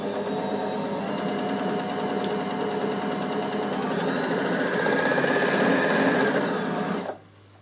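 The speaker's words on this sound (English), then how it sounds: "So we're going to overlock. That's one. Overlock the second one." Overlocker finishing the seam edges of a dress, a steady fast mechanical whirr running continuously and loudly for about seven seconds before stopping abruptly.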